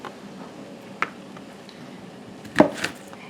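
A knife slices peppers into small pieces on a cutting board, giving a light tap, then a quiet stretch, then a cluster of crisp chops close by.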